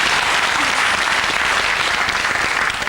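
A game show studio audience applauds steadily, a dense wash of clapping that holds at an even level for the whole stretch.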